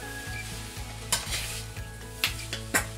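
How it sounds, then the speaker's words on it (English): Fried rice sizzling in a pan as it is stirred with soy and hoisin sauce, a steady frying hiss broken by several sharp scrapes and clatters of the utensil against the pan, close up and without talk. "I gotta stir this"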